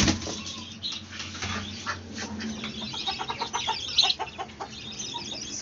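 A white hen clucks and flaps its wings as it comes out of the coop, close by, with scattered rustling and soft bird calls.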